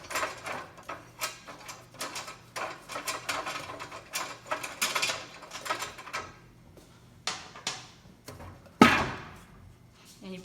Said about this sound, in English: And then if you look on top here, you'll see that there are wing nut screws. And so you unscrew those.